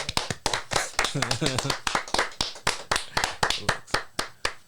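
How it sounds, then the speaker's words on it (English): A few people in a podcast studio clap for a guest pharmacist turned cannabis advocate, with sharp, close individual claps in an irregular rhythm while a voice talks over them partway through. "let's give my man Dr. Midtown a round of applause"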